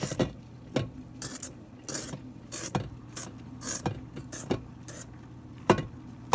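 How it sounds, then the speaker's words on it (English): A spatula scraping the sides of a mixing bowl of zucchini bread batter, a series of close irregular scraping and tapping strokes, fairly quiet, with no talk. "And then I'm gonna scrape the sides of this bowl here."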